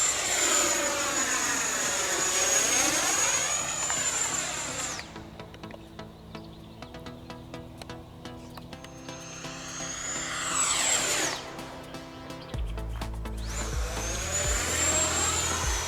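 A Freewing F-16 70mm EDF radio-controlled jet flies past with a loud, rising and falling turbine whine, sweeping in and out as it maneuvers, fading quieter mid-pass before surging close again with low rumbling at the end.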